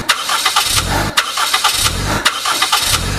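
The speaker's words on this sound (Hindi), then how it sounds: "इंजन हिला, ग्रर ग्रर की आवाज आई, पर स्टार्ट नहीं हुआ।" A car engine cranks repeatedly without catching, giving loud, close starter churns in rhythmic bursts with short pauses between them and no voices.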